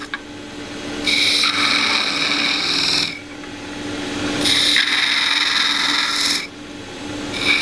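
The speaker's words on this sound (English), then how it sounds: "just arc the tool into the wood, and then tilt it slightly left, slightly right" A skew chisel cuts a V groove into spinning wood on a lathe, producing two loud bursts of high, scraping hiss separated by quieter rubbing, with a short third burst starting at the end.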